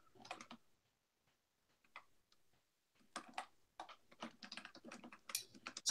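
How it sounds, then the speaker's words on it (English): Computer keyboard typing during a wrestling championship bracket draw, coming in irregular bursts of quick clicks with short pauses between them, close and fairly quiet. "While I'm typing this in"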